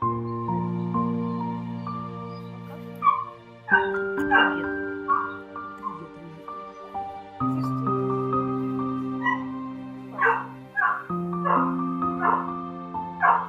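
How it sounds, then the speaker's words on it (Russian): A dog gives a few short, loud barks in scattered bursts over steady background music, close to the microphone. "Такой громкий пес."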